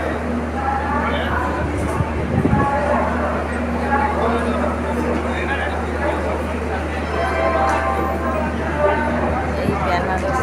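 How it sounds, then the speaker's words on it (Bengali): On the Benares railway station platform beside a halted train, crowd babble and a constant low rumbling hum fill the scene, with a person talking throughout. "এটা বেনারস স্টেশন, একটু দাঁড়িয়েছে তাই আমি নেমেছি, নেমে ভিডিও করে দেখাচ্ছি।"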